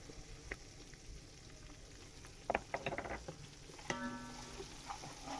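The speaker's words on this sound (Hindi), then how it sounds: "अदरक लहसुन को अच्छी तरह से हमने भून लिया है" Ginger garlic paste with finely crushed green chillies frying in a pan, giving a low, steady sizzle with scattered soft crackles and stirring clatter, fairly quiet and without talk.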